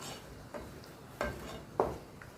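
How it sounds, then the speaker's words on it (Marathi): A pot of grape jam with sugar and a little salt is stirred over a medium gas flame, the spoon scraping the pot in three separate strokes roughly half a second apart, close and fairly quiet. "घट्ट होईपर्यंत हलवत राहायचं."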